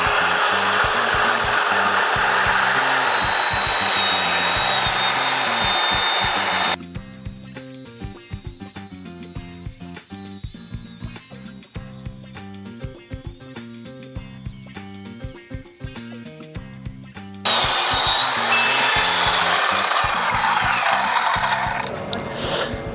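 A ring saw with a thick blade cuts through a wall, running steadily for about ten seconds with a grinding, rasping load. Quieter stretches of handling noise come before and after the cut, and no one speaks.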